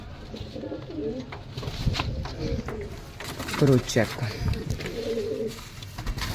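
Pigeons coo in a newly set-up loft, low rolling calls repeating several times at close range, partly under a voice talking nearby.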